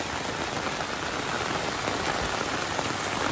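Heavy rain pours during an uphill motorbike ride on a road, a dense, loud, continuous hiss of drops with no voices over it.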